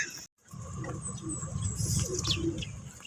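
A pigeon coos softly near a drinking spot below, low murmuring calls repeating over a rustling outdoor background, with a brief gap early on.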